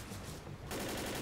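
Flamethrower-like gunfire from a player's weapon in the zombie shooter Left 4 Dead, a dense continuous roar of shots that swells louder partway through and holds steady, with no talk.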